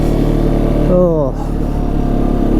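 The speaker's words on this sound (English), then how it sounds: "it's actually a decent sounding motor for a single cylinder" The single-cylinder engine of a 2016 Arctic Cat XC 450 4x4 ATV running steadily under load, a loud continuous low drone with a brief falling tone shift as it drops off throttle.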